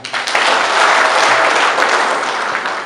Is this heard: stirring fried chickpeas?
no